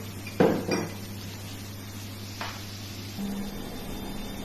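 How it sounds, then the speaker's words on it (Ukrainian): Cabbage with onion being stirred in a pan: a couple of sharp utensil clinks against the metal near the start, then a softer scrape, over a steady low hum with no talking. "перемішуємо разом з цибулею."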